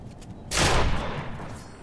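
A single sharp gunshot in Fortnite, loud and close, with a short fading tail after quiet background game noise.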